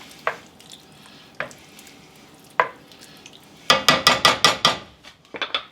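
A spoon scrapes and knocks through mushroom and basil sauce in a pan. A few isolated clacks come first, then a quick run of sharp, rhythmic strikes close by.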